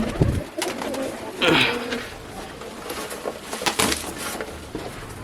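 Pigeons in a loft give low, bubbling coos and soft wing flutters nearby while someone talks over them in a casual voice.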